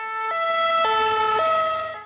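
A two-tone emergency siren of the fire brigade kind, its steady pitch alternating high and low in a loud, close wail with no talking.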